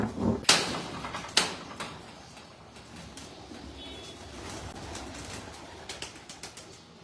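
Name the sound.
pigeon on rooftop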